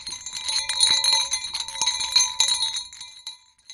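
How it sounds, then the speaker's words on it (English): Small bear bells sold to hikers jingle in rapid, irregular shakes, giving a bright metallic tinkling that is close and clear, then fades out into silence near the end. "Bear bells."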